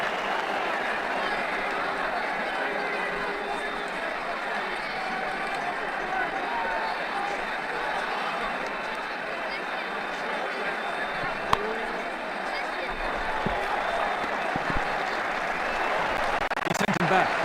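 A stadium crowd in the Ashes Cricket 2009 video game gives a steady round of applause and cheering that holds at an even level throughout, with a few sharp knocks near the end.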